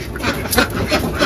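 Ducks laying eggs give a few loud, close quacks in short bursts over a rough background noise.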